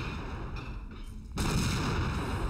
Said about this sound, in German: Die explodieren halt einfach.